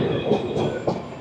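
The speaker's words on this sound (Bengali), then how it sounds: "আমাদের দুরন্ত এক্সপ্রেস পার করলো দক্ষিণেশ্বর স্টেশন" The Sealdah–Bikaner Duronto Express rumbles along the rails at speed, a steady heavy roar with faint wheel clatter, heard from inside the moving train with no voices.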